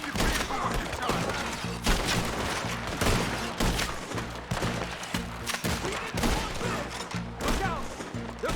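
Gunfire in a Red Dead Redemption 2 shootout: dense, continuous volleys of shots and thumps fill the scene with a noisy, chaotic battle din, loud throughout.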